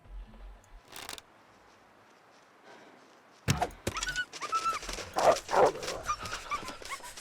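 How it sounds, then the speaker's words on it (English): A dog in the survival video game The Long Dark yelps and whimpers in a rapid burst of short, close cries after a sharp hit, following a quieter stretch with brief noises. "That dog, I don't think it's a wolf. I think it's just a dog."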